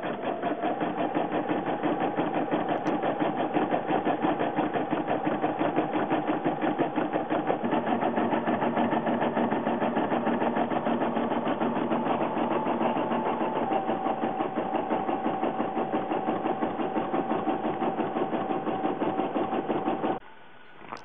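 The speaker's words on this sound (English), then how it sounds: "I'm going to stitch the applique onto the pants." A Brother Innov-is 990D embroidery machine stitches an applique onto a pair of pants, giving a steady, fast, close mechanical whirr with an even rapid needle rhythm that runs unbroken for about twenty seconds and then stops.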